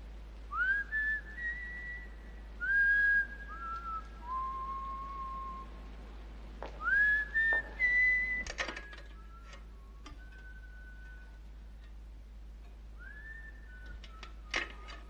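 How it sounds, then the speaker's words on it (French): A woman whistling a song outdoors at night, a clear melodic whistle in short phrases with pauses, fairly faint over a low hum, joined by occasional soft clicks and taps. "Elle part en sifflant dans la nuit."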